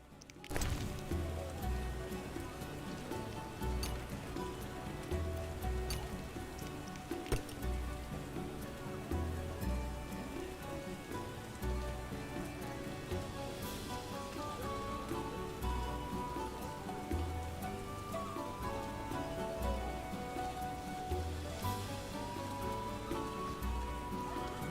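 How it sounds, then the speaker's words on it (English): Steady rain falls in a video game, a constant close hiss and patter with drops striking surfaces, unbroken throughout and no voices over it. "Real downpour."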